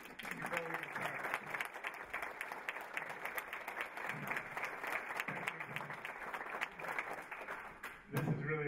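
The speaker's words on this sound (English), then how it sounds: "Let's all give them a round of applause." Audience at a Kiwanis Hope of America awards ceremony applauding the award recipients, a steady wash of many hands clapping, fairly faint and distant, fading near the end as a voice begins.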